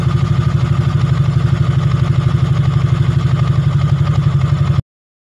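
A Yamaha Sniper 150 motorcycle engine idles after a clutch damper repair and new clutch lining, with a loud, close, steady rapid putter that runs evenly for almost five seconds and then stops abruptly.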